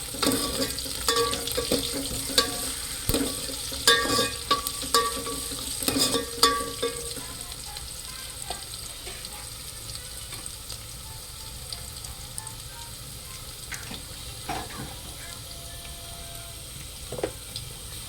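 Onions with salt fry in a pan for tomato sambar, a steady sizzle under repeated spoon scrapes and clatters against the pan that are busy at first, then thin out as the frying settles into a quieter hiss.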